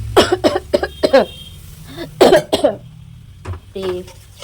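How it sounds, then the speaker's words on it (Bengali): Repeated harsh coughs from someone cooking with pungent chili fumes while preparing fish head with Malabar spinach, several close, loud bursts in short clusters, with a voice speaking around them. "কাশি হয়ে যাচ্ছে কাশি লঙ্কার ঝাঁসটাতে"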